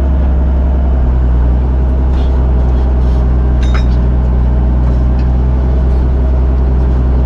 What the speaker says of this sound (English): Give her some nice throttles. And here we go.